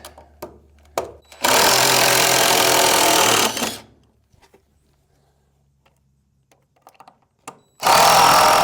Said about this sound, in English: these piglets are gonna get woke up with a little bit of a scare from the drill